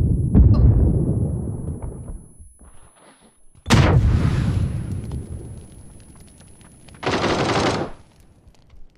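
A grenade blast in the shooter game PUBG: a loud, sharp boom with a rumbling tail, followed later by a second bright burst of gunfire-like noise, heard alone without speech.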